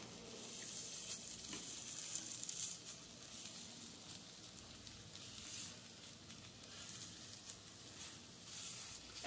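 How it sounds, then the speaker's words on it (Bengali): Pea kachori filling frying and being stirred in a pan, a steady close sizzle with soft scraping running evenly throughout, no voices over it. "আর 1 মিনিট মতো এটাকে নেড়ে আমি এটা নামিয়ে ফেলবো।"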